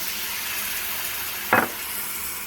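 Chili paste sizzling in a hot pan of oil with spices, a steady soft frying hiss throughout broken by one brief louder burst as more paste lands, close by with no talking.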